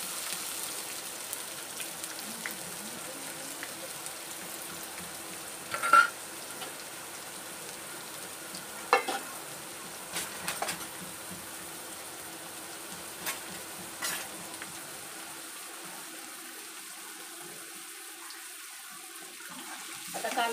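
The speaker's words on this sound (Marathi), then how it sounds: "कांदा पण मस्त पैकी परतून घेणार आहोत तेलामध्ये आता व्यवस्थित।" Two chopped onions fry in oil with cumin seeds for a chicken sukka, giving a quiet, steady sizzle with a few sharp clinks and stirring sounds scattered through it.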